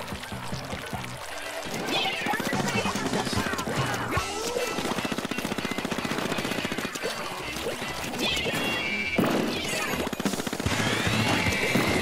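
Rapid video game gunfire crackles through a match in steady bursts, layered over a dense, continuous wash of other game sounds for the whole stretch.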